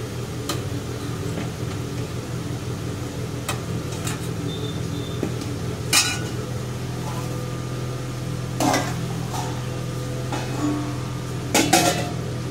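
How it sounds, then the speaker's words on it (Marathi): Dishes and cutlery clink and scrape as a meal plate is served with whole moong curry and fried pongi; sharp clatters come a few at a time over a steady low hum. "चला तर आपण ताट बनवून घेऊया जेवणाचं."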